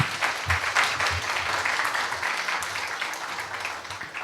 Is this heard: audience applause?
yes